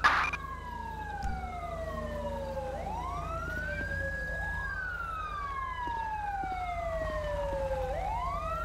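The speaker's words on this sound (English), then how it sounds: "Here comes the EMS." An EMS ambulance siren in GTA V, arriving at a Sandy Shores scene, sweeps up and down in a steady, loud wail over a low engine rumble.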